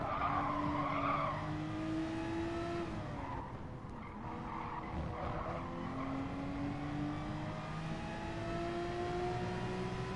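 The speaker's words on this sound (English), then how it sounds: "the Corvette, after going a little wide there, his tires lost some traction" A Corvette's tires squeal and skid as it runs wide and loses traction in a GT Sport racing game, a long wavering screech over steady engine drone and other race cars, loud and continuous.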